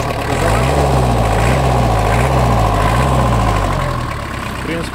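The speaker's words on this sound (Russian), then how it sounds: "что двигатели работают ровно, обороты поднимают и опускают тоже ровно." A Kubota Saturn X20 mini tractor engine idles steadily nearby, a loud continuous low rumble with a slight periodic waver in its pitch, running alone throughout without talk.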